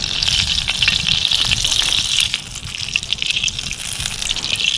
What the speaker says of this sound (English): it's already starting to bubble and pop a little bit